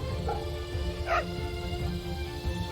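A dog in the video game Fate/Samurai Remnant gives a short, sharp yip, with softer whimpering yelps before and after, heard over a quiet game background.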